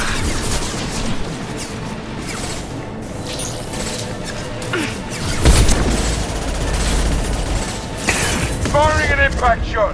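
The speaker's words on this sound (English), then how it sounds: "Firing an impact shot!" Impact shot fired in Mass Effect Legendary Edition during a Collector Ship ambush: a heavy boom lands about midway through dense combat noise, with character voices speaking over the action.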